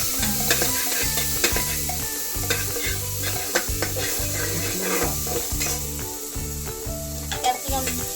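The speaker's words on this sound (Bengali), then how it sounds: "আমি জিনিসগুলোকে একটু সটে করে দিচ্ছি" Beans, carrot, ginger-garlic and papaya sizzle steadily as they are sautéed in a pan, with a spatula stirring and scraping in a repeating rhythm close by; no one speaks.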